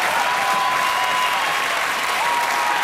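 Dense, sustained applause and cheering from a large arena crowd at Oslo Spektrum during a Norwegian Eurovision final, a steady roar of clapping holding level throughout with no talk over it.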